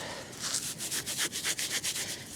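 A crusty coin dug up while metal detecting on a Tasmanian beach is rubbed between fingers in quick, rhythmic scratchy strokes, close and fairly loud, about a dozen passes in a couple of seconds.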